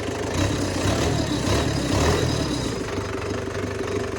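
Engine running steadily after new fuel injectors were fitted, a continuous mid-pitched idle with a faint rhythmic knock, close and fairly loud with no talk.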